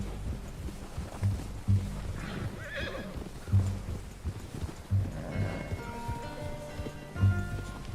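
In Red Dead Redemption 2, an agitated horse neighs and whinnies loudly while hooves thud in irregular beats. Background game sounds are also present.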